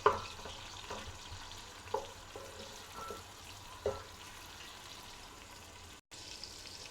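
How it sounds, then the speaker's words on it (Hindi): Finely chopped onions fry in hot oil for biryani, giving a soft, continuous sizzle with a few sharp stirring clinks, all fairly faint and with no talking. "अब हम इसमें प्याज डाल देंगे जो कि हमने एक बारीक काट के रखा हुआ था।"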